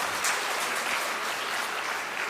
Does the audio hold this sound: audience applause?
yes